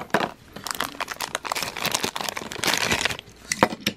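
Plastic and cardboard packaging of a Tomica toy car, a Toyota Dyna garbage truck, crinkles and crackles up close in dense, continuous bursts as it is torn open, with sharp tearing spikes near the end.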